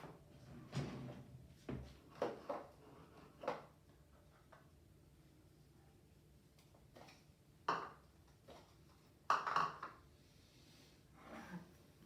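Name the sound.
getting a spoon from a drawer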